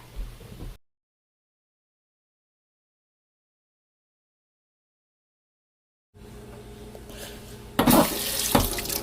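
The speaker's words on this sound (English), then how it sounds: "After waiting the 3 days, you have to wash your apples." Apples are washed under a running kitchen tap, with water splashing steadily and loudly close by after a stretch of silence.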